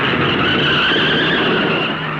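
A stock car spins and skids on the Darlington track during the 1965 Southern 500, a loud, sustained tire screech and engine roar that holds steady for a couple of seconds without talk.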